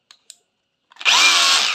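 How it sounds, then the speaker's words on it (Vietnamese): A Makita 18V cordless rotary hammer drill in hammer-rotation mode bores into concrete, starting after two faint clicks with a loud, steady, close grinding roar that holds to the end. "đục xoay mùi đó, khoan bê tông này"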